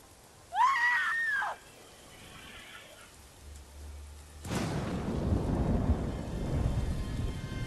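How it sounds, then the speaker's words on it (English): A scream in Ghost of Tsushima rises and falls for about a second, loud and clear. A dull rumble and steady heavy rain follow, continuing to the end. "That was a very convincing scream."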